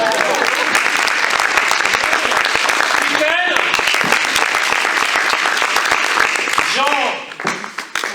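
An audience at a forum theatre session bursts into loud continuous applause, dense clapping from many hands filling the room while voices speak and call out names over it, the clapping thinning out near the end.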